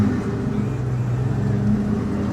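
A Dodge Challenger 392 SRT 8 with its ABS and low fuel lights on pulls away in first gear, making a steady, close, low engine rumble with no talking.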